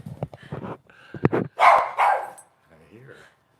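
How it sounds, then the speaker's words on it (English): Dogs barking rambunctiously indoors, a few close, sharp barks and yips in quick bursts with a soft whimper after, mixed with a voice talking. "My dogs are being very rambunctious today."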